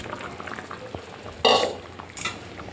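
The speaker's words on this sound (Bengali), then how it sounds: "ঝোলটা ফুটে গেছে" Fish curry broth bubbling in a pan for a ridge gourd fish jhal, heard as two short, close bursts of sizzling, bubbling hiss over a quiet kitchen background, with no talking.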